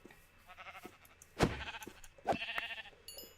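Sheep bleat in a video game, two loud bleats standing out among softer clicks and game sounds, with a faint high tone near the end.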